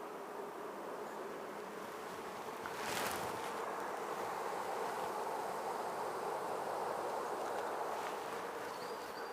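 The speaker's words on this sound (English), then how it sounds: "Still a lot of bees not moved out yet, which is a bugger." Honey bees from a spring swarm buzz around a swarm bucket in a dense, continuous drone. It is fairly quiet and close, with a brief rustle partway through.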